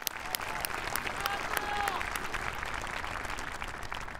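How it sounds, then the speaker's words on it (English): Sustained applause from a university commencement ceremony audience, dense steady clapping held throughout at moderate distance, with a faint whistle or voice rising briefly midway. "Let's, again, give him a round of applause."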